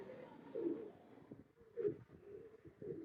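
Rampuri teddy pigeon cooing softly, a few low rolling coos spaced through a quiet outdoor moment, fairly faint.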